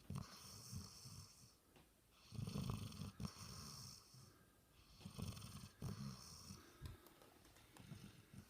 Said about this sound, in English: Listen to him snore.